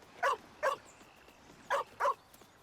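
A dog in the Baldur's Gate 3 video game barks four times in two quick pairs of sharp yips, clear and close over a quiet background.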